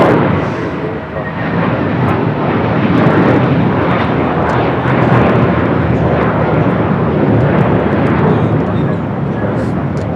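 A JetBlue Airbus A321 takes off at LAX, bound for JFK, with a loud, steady broadband engine roar that fills the whole stretch and swells slightly midway. A radio voice or commentary can be heard faintly under it.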